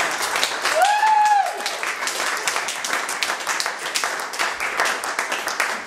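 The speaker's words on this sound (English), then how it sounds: "Can we now give Mr. Reed, who sent me this email, and his fantastic recording, a round of applause" An audience claps steadily in a dense, even round of applause all the way through. A short whistle-like tone rises and falls near the start.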